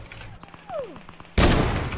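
Gunfire in a shooter video game played in creative mode: a quiet stretch with a brief descending whistle, then a sudden loud burst of rapid shots that keeps going to the end.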